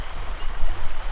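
Rushing water of the Piscataquis River along the Appalachian Trail in Maine, heard close up as a loud, churning broadband wash with gurgling surges, no voices over it.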